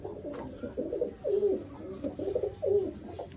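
Pigeons coo softly in repeated throaty phrases, close by, over a low background hum.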